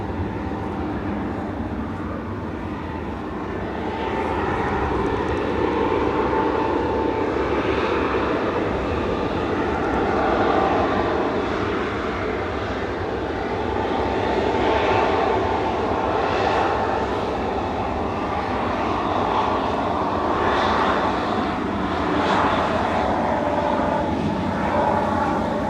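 At Manchester Airport, airliner jet engines give a steady, broad roar that swells and eases slowly for nearly half a minute. The source sounds fairly distant, with no talk over it.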